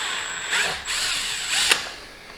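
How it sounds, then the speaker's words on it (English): Power drill boring a hole on a 2022 Kawasaki KLR650 Adventure while fitting a thermostat kit, a short whining drill burst with brief pauses and a sharp catch near the end, close and alone. "And I'm being super careful not to go too far in with the drill."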